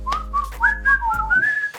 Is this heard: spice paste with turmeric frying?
no